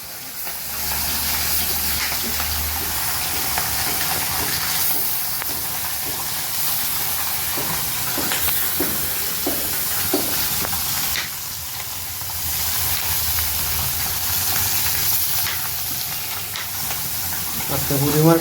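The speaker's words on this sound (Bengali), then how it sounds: "মা মাছ ভাজা করছে।" Fish sizzling in hot oil in a home kitchen, a loud, continuous hiss with occasional clatters and stirring noises running for the whole stretch.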